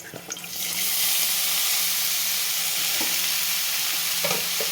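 Chopped bitter gourd and onion land in hot oil with green chillies and fry in a pan. The sizzle swells up within the first second into a loud, steady hiss, with a few faint stirring knocks.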